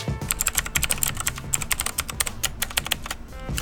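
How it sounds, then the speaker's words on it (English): Rapid, clicky typing on a Gamdias Hermes E2 mechanical keyboard with blue switches, close up, with a fast uneven rhythm of crisp key presses and no talking. "here you can actually see that I've got the blue keys and they sound great"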